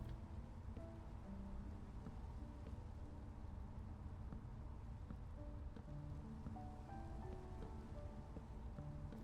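Minecraft rain pours steadily throughout, a dense uniform hiss that never lets up, with quiet melodic notes sounding faintly underneath and nobody speaking.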